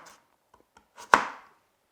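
A knife chopping onion for homemade meat pies: a few faint light taps followed by one sharper, louder chop on the board, with no talking.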